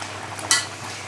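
Roast curry simmering in a pot, a soft steady bubbling and hiss with a brief brighter scrape or splash midway, heard close and alone.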